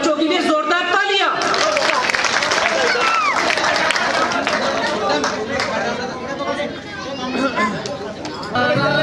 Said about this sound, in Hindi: इन बच्चों के लिए जोरदार तालियां।